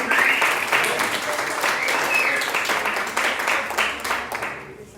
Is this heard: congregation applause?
yes